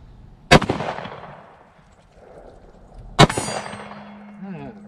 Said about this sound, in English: And now I'm just gonna shoot, nothing special. Just gonna move around from plate to plate and see what happens.